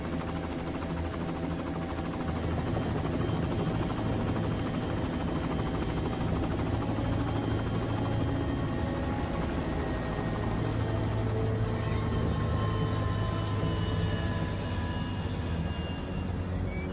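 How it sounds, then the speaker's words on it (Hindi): Helicopter coming in to land, its loud continuous rotor and turbine drone filling the whole stretch steadily and close, with no break. "हेलीकॉप्टर नीचे लो।"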